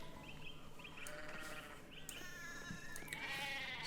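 Sheep in the medieval village of the video game Pentiment bleat over a soft ambient bed, several short wavering calls overlapping at moderate distance, with a louder cluster near the end.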